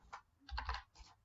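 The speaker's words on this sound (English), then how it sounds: "I will type my name in here." Someone types a name on a computer keyboard, giving a short run of soft, close key clicks in three small bursts, fairly quiet and with no talking.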